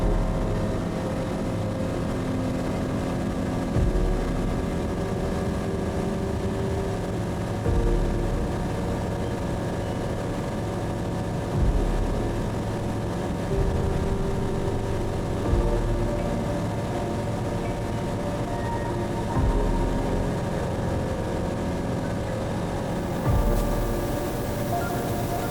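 Steady drone of a light aircraft engine during a solo navigation flight out of Redcliffe toward Kingaroy, heard from inside the cockpit as a constant tonal hum with no talk.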